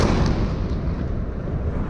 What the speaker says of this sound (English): they themselves came under bombardment